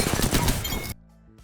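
Rapid gunfire in an Apex Legends fight, a dense burst of loud shots lasting nearly a second before cutting off abruptly, followed by faint electronic game tones.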